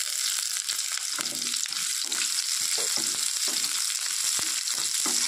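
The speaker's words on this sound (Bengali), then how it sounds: "এর মধ্যে আমি এখন দিয়ে দিব কুচনো পেঁয়াজ" Chopped onion frying in fish oil with black cumin, loud continuous sizzling with repeated stirring scrapes and clicks of a spoon against the pan, no speech.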